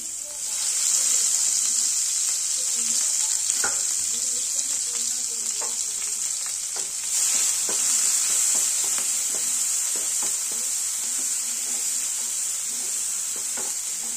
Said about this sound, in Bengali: প্রথমে আমরা পেঁয়াজটা দিচ্ছি। পেঁয়াজ আর কাঁচা লঙ্কা দিয়ে দেবো আমরা।